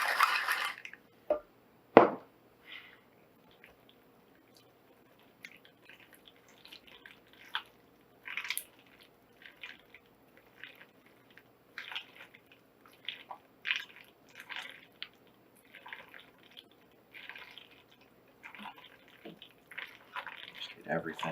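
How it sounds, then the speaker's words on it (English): A spoon works ingredients together in a kitchen mixing bowl, seasoned with ground black pepper, giving soft wet squishes and scrapes in irregular bursts, with a sharper knock near the start and quiet pauses between strokes. "Just get everything mixed together and nicely incorporated."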